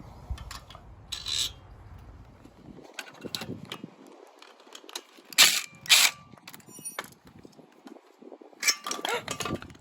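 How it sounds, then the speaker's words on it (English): A 10mm wrench and an 8mm socket work the two bolts off a carburetor on an SSR 125 pit bike. Close, scattered metallic clinks and taps ring out in uneven bursts between quiet gaps. "we're gonna remove the 2 bolts right here off the carburetor. We need a 10mm wrench and an"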